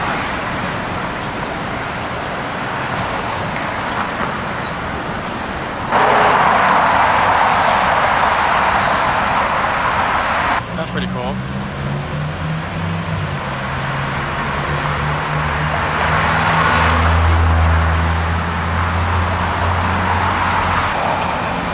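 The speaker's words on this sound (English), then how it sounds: "That's a sick Huracan Cerrado" Lamborghini Huracan supercar passing on a New York street, a low engine rumble swelling out of steady traffic noise and fading, distant and moderately loud without talk.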